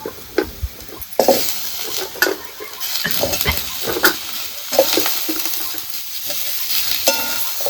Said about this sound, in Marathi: सगळी सगळीकडून हलवून घ्यायची